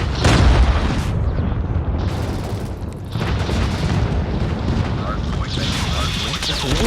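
A deep, loud explosion booms at the start, then rumbling blasts and debris roll on for several seconds in a game.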